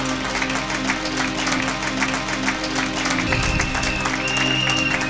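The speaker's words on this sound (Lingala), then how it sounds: "Acclamons pour la gloire de Jésus" A church congregation bursts into sustained applause at a French-language sermon, a dense, even clapping that carries on at full strength throughout with crowd noise mixed in.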